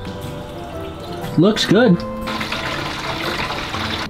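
Water pours steadily into a drain during a school bus conversion build, a continuous rushing hiss that runs under close conversational talk.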